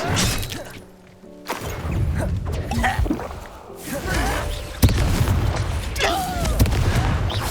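Confringo blasting-spell explosions from a Hogwarts video game hit as heavy booms and crashes, with a sharp loud blast midway, layered with game voices and music.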